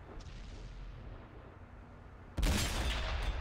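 A tank cannon fires in a video game battle with a sudden heavy boom that rolls on into a sustained rumble after a stretch of low background drone; fairly loud, no talking.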